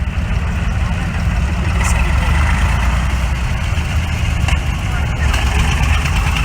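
Tractor engine idling steadily at an agricultural vehicle blessing during the San Martino fair in Inveruno, a 1956 Super tractor, with a loud continuous low rumble under crowd noise and faint voices throughout.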